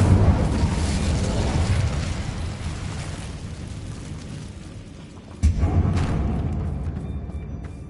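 A roaring Incendio fire spell in Hogwarts Legacy, a sustained loud whooshing blaze that fades, then a sharp burst reignites it into a second roar.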